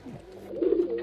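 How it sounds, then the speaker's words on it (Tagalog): Inside a two-story racing pigeon loft, a pigeon gives a brief, soft coo that is close and fairly quiet, with no talk over it. "Ang bahay na ito ng mga kalapati"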